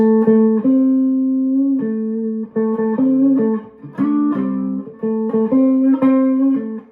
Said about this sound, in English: if you play the flat 3 and bend it like halfway